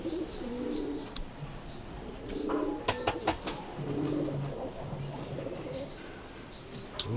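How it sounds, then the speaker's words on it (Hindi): Ferozpuri pigeons cooing in soft, low, repeated phrases close by, with a few sharp clicks and faint background voices of people nearby. "एक्चुअली फिरोजपुरी वो कबूतर हैं जो फिरोजपुरी से लाए गए"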